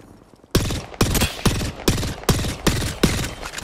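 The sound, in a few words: gunfire in Apex Legends video game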